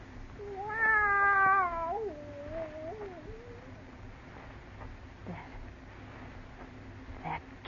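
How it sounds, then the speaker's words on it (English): A single loud, drawn-out cat meow with a falling pitch rings out in a quiet house in a radio horror drama, followed by faint room tone. "That cat."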